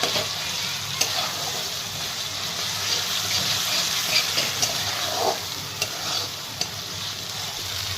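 Ivy gourd (tondli) sabzi with fresh coriander sizzling in a pan on the stove, a continuous frying hiss with occasional scraping taps of a spatula as it is stirred.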